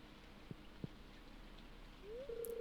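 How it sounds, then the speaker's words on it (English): Rain falls on a trailer in Stardew Valley, a faint steady patter with a few soft isolated drops, and a brief rising game tone near the end. "just really absorbing the sound of the rain"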